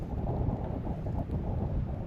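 Steady outdoor wind rumbles and buffets a microphone in a snowstorm at night, broadband and continuous with mild swells of gusting and no voices.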